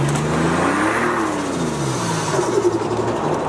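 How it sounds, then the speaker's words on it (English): A turbocharged car engine revs up with a rising turbo whoosh and whine, the pitch climbing and then dropping as it accelerates, loud and close with no talking. "The turbo noises are insane."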